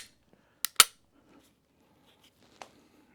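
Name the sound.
Glock 19 Gen 5 pistol trigger click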